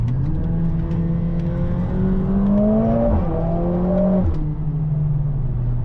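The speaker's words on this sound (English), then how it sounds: "Also have real exhaust sound, pops" A 2025 Mercedes-AMG A45 S hot hatch engine drones steadily with rising and falling pitch, a sporty exhaust note with pops holding close and loud throughout with a brief dip midway.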